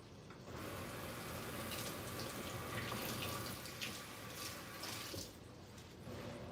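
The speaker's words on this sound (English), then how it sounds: "Let me rinse that one again." Tap water runs steadily into a sink as sweet potatoes are rinsed for a sweet potato pie, a continuous close splashing hiss that stops abruptly near the end.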